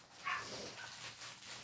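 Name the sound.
dogs barking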